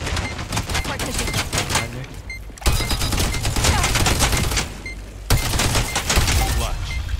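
Rapid bursts of gunfire from a first-person shooter game, dense and continuous for several seconds with brief pauses, loud and close, with a voice faintly underneath.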